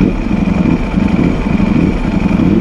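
A 2023 Ducati Panigale V4 SP2 engine running close and loud in street mode, a steady throaty rumble at low throttle with slight throbbing pulses, no talk.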